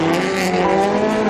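A Subaru STI race car spinning donuts, its tires squealing in a loud, sustained, slightly wavering screech over engine roar, close and continuous.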